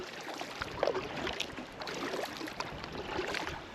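Paddle strokes through calm water during an easy solo trip, a steady soft wash of splashes and drips, close and fairly faint, with no talking.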